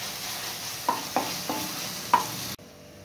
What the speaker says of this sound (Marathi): मसाला व्यवस्थित परतवून घेऊ आपण